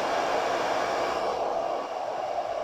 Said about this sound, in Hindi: अभी मैं आप दोस्तों को ये हेयर ड्रायर ऑन करके दिखा देता हूँ कि हमारा ये वर्क कर रहा है या नहीं कर रहा